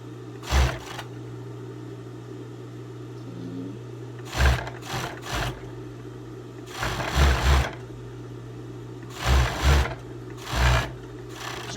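Short intermittent bursts from a sewing machine stitching a teddy jacket, each run a second or so of close, loud rattling stitching, separated by quieter pauses with a steady low hum underneath.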